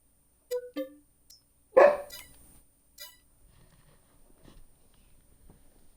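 Indoors, a jealous dog gives a few short, sharp yips and one louder bark, followed by soft rustling and faint movement, with no talking.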